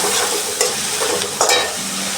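Something frying in a pan until reddish, likely for a pabda fish dish in mustard sauce, gives a steady broadband sizzle with a couple of brief stirring scrapes, close and fairly loud throughout.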